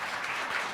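Audience applause at a science policy panel on the NIH, a steady, moderately distant patter of many hands clapping throughout.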